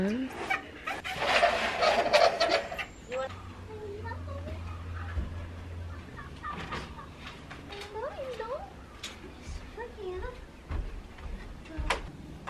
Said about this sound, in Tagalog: ilagay ko lang itong ibon sa labas